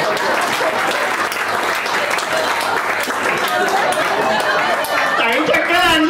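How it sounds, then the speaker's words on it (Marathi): An audience claps warmly and continuously to welcome a guest onstage, with steady, dense applause and crowd chatter mixed in throughout. "एकदा टाळ्या वाजवून कॉम्प्लिमेंट करा"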